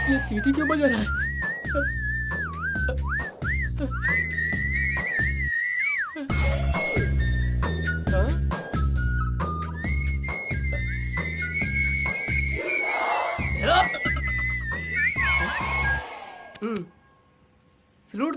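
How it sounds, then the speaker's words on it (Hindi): A person whistles a shrill, wavering melody in long sustained notes and quick slides, loud and close, over a rhythmic musical backing, with voices briefly underneath. "ये सीटी क्यों बजा रहा है?"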